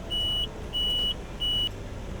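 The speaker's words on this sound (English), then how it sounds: "a warning buzzer will continually sound to remind the driver that when the front diff lock is engaged, the steering is affected" Warning buzzer on an IVECO Daily 4x4 signalling that the front differential lock is engaged: three steady, evenly spaced electronic beeps, each about a third of a second, over a low cab rumble.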